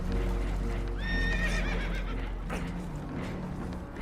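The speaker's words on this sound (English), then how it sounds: "Horses are spooked, and we're taking on water." Frightened horses whinny loudly aboard a boat taking on water in the Red Dead Redemption 2 video game, a descending neigh rising over constant rushing water and engine noise.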